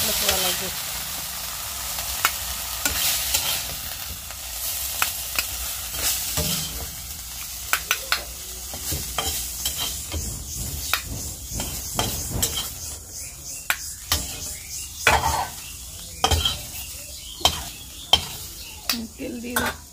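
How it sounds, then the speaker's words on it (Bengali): Jute greens frying in oil with garlic and chili in a pan give a continuous sizzle under repeated sharp clinks and scrapes of stirring, close and irregular, with no talk heard. "তো এই যে শাকটা ভাজাও প্রায় হয়ে এসেছে"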